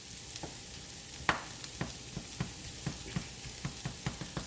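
Butter melting and sizzling in a pan with mushrooms and onions, a soft steady fry broken by a run of small regular taps and clicks, fairly quiet and close with no talk.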